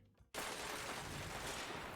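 Sudden burst of video game gunfire and explosions from an incandescent-type weapon, cutting in after a brief quiet moment and holding as a dense, loud roar of blasts to the end.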